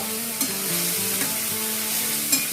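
Soya chunks sizzle steadily in hot oil, a close continuous frying hiss broken by a few soft stirring knocks in a home kitchen.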